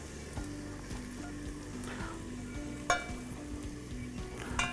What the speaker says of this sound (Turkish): Tereyağımız eriyor. Unlarımız burada. Kavuracağız.